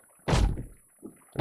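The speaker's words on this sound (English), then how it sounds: "Look how much faster it is to use a fire axe." Fire axe chopping in 7 Days to Die, heavy dull thunks, one strong blow followed by a softer tap and another strike starting at the end, close and solid.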